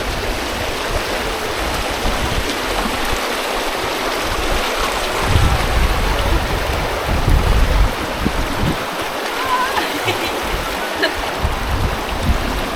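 Rapid stream running high after heavy rain at the Chee Dale stepping stones, a constant loud rushing and splashing of water close by, with no voices.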